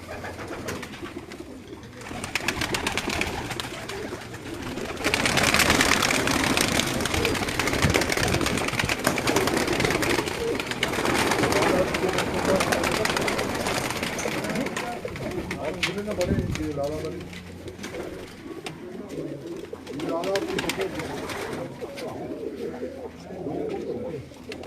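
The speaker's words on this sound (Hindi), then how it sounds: "उनके ये बड़े शानदार कबूतर" Sialkoti-breed pigeons coo steadily from their cages on a rooftop in Quetta, Balochistan, a continuous close murmur of overlapping calls with voices talking intermittently in the background.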